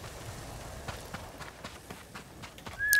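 Horse in a video game gallops with rapid, rhythmic hoofbeats, fairly faint and steady, over a quiet background, ending with a brief bright tone.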